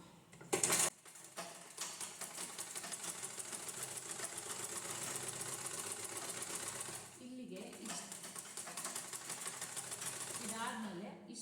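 A sewing machine stitches a blouse in a long steady run of rapid needle clatter after a brief sharp knock, pausing once before resuming; someone talks over it.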